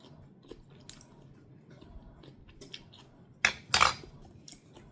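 Chunky salad eaten with cutlery, as quiet chewing is broken by a few light clinks of utensils, then two louder, sharper scrapes against the dish near the end.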